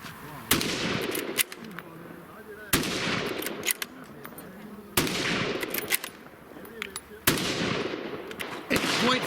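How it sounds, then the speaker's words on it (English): Scout rifle fired at three reactive targets 25 yards away: four sharp, loud gunshots spaced about two seconds apart, each followed by a ringing decay, with faint voices and movement in between. "Now we're going to try the scout rifle."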